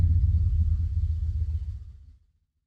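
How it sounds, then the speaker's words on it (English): A loud pickup truck passes close by with a heavy, deep engine rumble that holds steady, then fades away over about two seconds and leaves silence. "there goes that obnoxiously loud fucking pickup truck"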